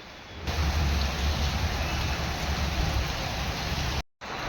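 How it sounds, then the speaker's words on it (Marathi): Heavy rain pours down in a dense, constant hiss, briefly cutting out near the end before resuming. "पाऊस इतका खतरनाक आहे ना रात्रीपासून पाऊस चालू आहे"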